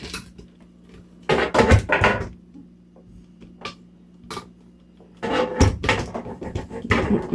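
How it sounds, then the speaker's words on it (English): A spatula scrapes around the side of a mixing bowl of Oreo cake batter, giving two bursts of rough scraping and knocking, with a few light taps in between. "Just going to scrape down the side so then the Oreo gets all in it"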